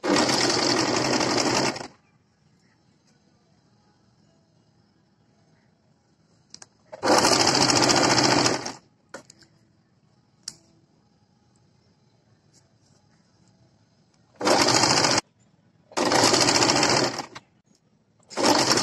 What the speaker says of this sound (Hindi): तो जो सिलाई है वो पट्टी के पास के से लगाएंगे हम